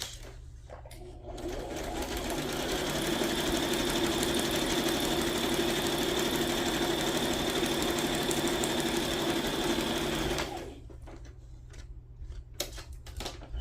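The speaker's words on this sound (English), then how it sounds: "sewing all around the page" Sewing machine running steadily for about ten seconds as it stitches around the edges of paper journal pages, a continuous close whirring hum that starts and stops abruptly with a few quiet clicks around it.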